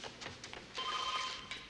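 A telephone rings with a steady electronic bell trill in a horror movie scene, faint and a little distant, with no voices over it.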